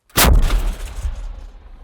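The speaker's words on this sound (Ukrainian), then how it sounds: "Гармата, постріл." A single loud, close artillery blast with a sharp onset, followed by a rumbling decay that trails off over more than a second.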